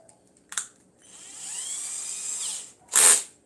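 An electric drill bores holes into the thin heel of a dress shoe: a sharp click, then a sustained whine of more than a second, followed by one more short, loud burst up close.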